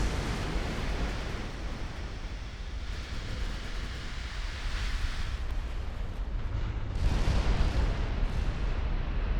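Naval battle in the Ultimate Admiral Dreadnoughts game as a warship takes shell and torpedo hits: a steady roar of rumbling, surf-like explosions and distant artillery booms that surges louder near the end.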